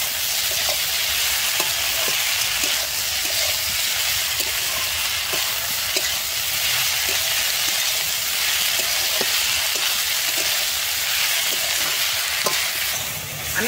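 Drumstick flowers being stir-fried with potato and eggplant in a pan, a steady close sizzle with regular scraping stirs of the spatula recurring throughout, no talking.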